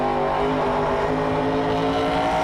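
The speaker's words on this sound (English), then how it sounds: "you can hear him feathering the throttle on his run up the hill here" A historic touring race car engine at Bathurst holds a steady, droning note under load uphill, with slight rises and dips as the throttle is feathered, close and continuous.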